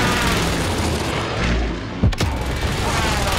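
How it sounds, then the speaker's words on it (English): A video game airstrike explosion: one sharp, heavy boom with deep rumble about two seconds in, standing out over a steady roar of in-game noise, with no talking. "Good copy. Strike inbound."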